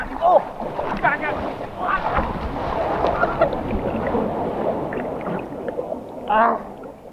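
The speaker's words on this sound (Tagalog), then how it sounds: "Ang lakas ng alon!" Strong sea waves surge and wash against a beach, with wind buffeting the microphone throughout as excited voices shout over the churning water.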